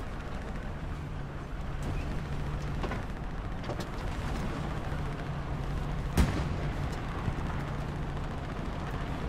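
In a tank video game, a single sharp cannon blast stands out over a steady rumbling background of gameplay noise, fairly close and brief, with no talk.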